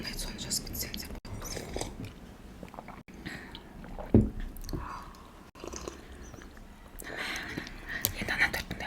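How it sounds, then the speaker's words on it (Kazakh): Soft close-up chewing of a velvet cake during a Kazakh-language mukbang, quiet and moist with a few sharper bites, heard alongside whispered speech. "Енді ана торттың дәмін көрейік."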